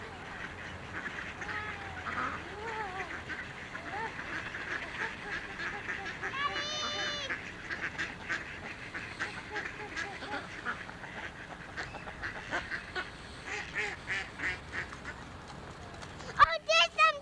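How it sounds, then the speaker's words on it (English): A flock of ducks quacks and honks on the water in a steady chorus at moderate distance, with people talking at times over the calls. "Oh, there's some ducks in the water."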